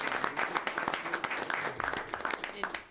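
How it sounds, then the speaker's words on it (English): Scattered applause from a small crowd at a town annual budget hearing in Harwich, with distinct individual claps, some cheering and voices mixed in. "So I think we should all give him some applause."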